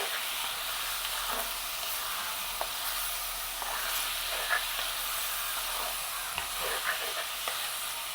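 Dried paarai karuvadu fish frying in hot oil, a steady close sizzle and hiss with occasional stirring scrapes, continuous and without talk.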